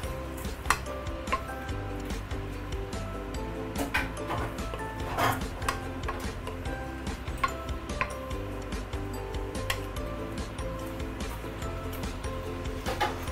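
Prawn noodles with light soy sauce stirred in a pan, giving repeated soft metallic taps and scrapes over a steady low background, moderately faint and close.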